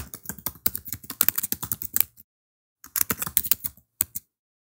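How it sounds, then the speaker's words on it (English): Rapid typing on a computer keyboard, with dense bursts of crisp key clicks, a short pause, then more keystrokes ending in a few isolated taps, close and clear with no talking. "Now we can type."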